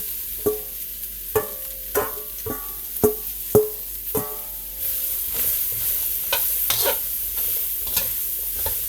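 Diced vegetables and fresh garlic frying in a pan for pepper steak, with a spoon stirring and scraping in sharp knocks over the first half, then a steady close sizzle with occasional clatter.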